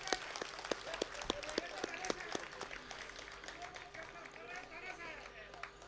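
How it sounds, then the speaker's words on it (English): An audience at a literary festival session gives scattered, sharp claps that thin out and fade while voices carry on beneath and after. "Please can we have a huge round of applause for a fascinating session."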